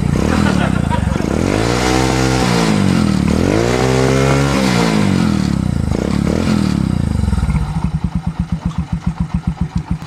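A Honda CT 125 motorcycle engine, running again after a CDI fix, revs up and drops back twice, loud and close, then settles into a fast, steady idle thumping.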